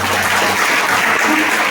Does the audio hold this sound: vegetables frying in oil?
no